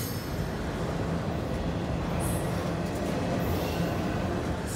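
A freight train of autorack cars rolls past, heard as a continuous steady rumble of wheels on rail at moderate distance, with faint metallic squeals near the end and no talking.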